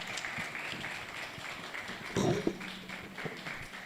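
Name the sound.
audience applause welcoming a speaker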